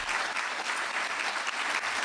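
Audience applause at a corporate speaking event, a loud, even wash of many hands clapping that holds for about two seconds with no pauses.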